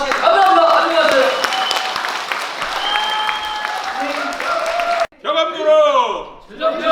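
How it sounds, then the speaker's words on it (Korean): An audience applauds at the book launch for author Choi Jeong-yong's book on the Gyeogam Yurok prophecies. Loud clapping blends with voices and tonal sound, then cuts off abruptly to a person speaking. "큰 박수를 치면서"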